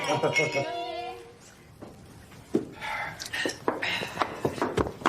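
Glasses clink together in a toast at a housewarming celebration in a period drama set in Macau. A bright ringing chime opens, then murmured voices and soft movement follow.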